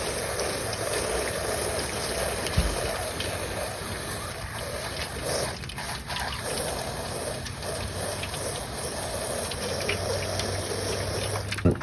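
Dry ice in water bubbles and fizzes steadily, giving a continuous close gurgling hiss as carbon dioxide gas escapes. The level stays fairly even throughout, with no voice heard.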